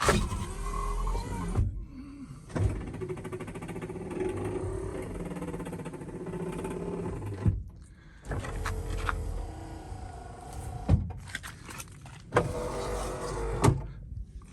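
Power windows on a 1959 Pontiac Bonneville Sport Coupe, several separate electric motor whirs each lasting a few seconds, with brief pauses and clicks between runs, fairly close and alone.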